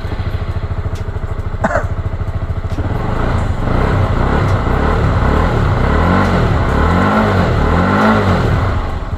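A used motorcycle engine in good condition idles steadily up close, then revs up and down a few times in smooth, rising and falling surges.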